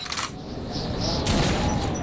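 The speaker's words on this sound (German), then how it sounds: "Ja, und noch ein Schuss, so." A burst of gunfire in the video game Metro 2033, loud and sharp, with a rolling boom and rattling mechanical tail; no one speaks.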